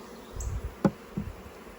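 Honey bees buzzing around a beehive in short, faint bursts: a few brief hums and a sharper close pass against quiet background.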